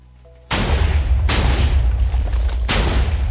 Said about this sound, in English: This is by far the best tunnel bore I've ever seen. It does 3 different explosions.